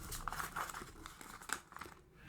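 Paper pages being shuffled and handled, a continuous close rustling and crinkling with several sharper crisp flicks, steady and fairly quiet with no talking.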